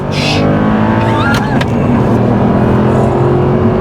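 An Audi R8 V8 engine pulls hard under acceleration, a loud, steady, close-up drone from inside the moving car, with a voice briefly exclaiming over it.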